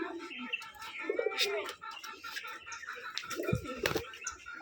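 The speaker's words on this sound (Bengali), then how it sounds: "এই যে হাতবাজির কবুতর, এটাকে কিন্তু অরিজিনালি হাতবাজি বলা হয়।" Hatbaji pigeons on a Rajshahi farm, soft close cooing and scattered chirps with a brief flutter, people talking quietly in the background.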